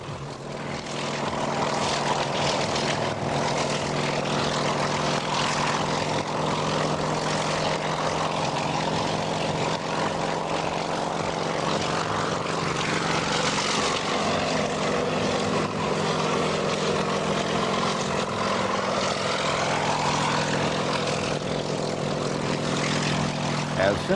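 A firefighting helicopter with a bucket hovers low to refill from a body of water, a loud continuous engine drone and rotor hum with steady tonal whine, holding constant for over twenty seconds.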